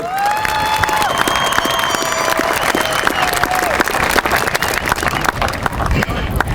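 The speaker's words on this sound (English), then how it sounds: "one last round of applause to all the family, staff, and graduates who are here today to celebrate the class of 2025" Applause at a high school graduation ceremony, dense crowd clapping throughout with scattered cheers and background chatter, loud and sustained.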